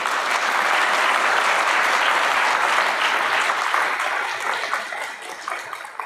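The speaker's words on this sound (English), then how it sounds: "I'd love if we could just take a minute to recognize their efforts with a bit of applause." Audience at an education talk gives sustained applause, a dense, steady wash of many hands clapping that holds loud for several seconds and then gradually thins and fades.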